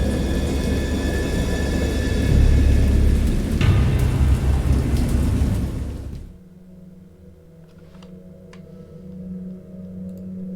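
Heavy rain and rumbling thunder from a thunderstorm in the video game Dagon roar together loudly, then cut off abruptly to a quiet, low hum with faint ticks.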